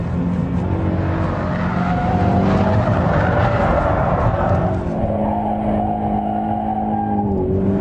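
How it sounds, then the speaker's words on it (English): A loud engine roars close up as tires squeal and skid, the pitch shifting and rising as a rear-wheel-drive Toyota GT 86 slides, with no speech. "And the nice thing about that is that you should be able to do skids."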